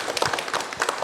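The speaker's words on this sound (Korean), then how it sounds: "우리 박수 한번 치고 갈까요?" A small group of about ten guests and audience members at a Goheung county town hall meeting claps briefly. The claps are close and uneven, a short burst of handclaps.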